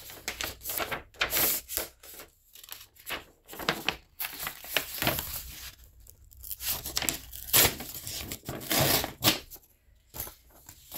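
Pen or pencil writing by hand on paper, a series of scratchy, irregular strokes in short bursts with pauses between them, close and fairly clear.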